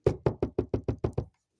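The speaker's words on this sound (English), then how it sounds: "as you keep on knocking" Eight steady knocks, evenly spaced and close, rapped firmly on a door, then silence.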